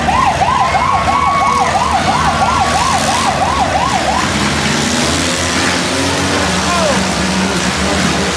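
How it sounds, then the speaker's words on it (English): A wailing emergency siren cycles up and down loudly at a county-fair demolition derby in Columbiana County, Ohio, over a constant roar of crowd and engine noise, then the siren stops while the background din continues. "at the sound of the siren"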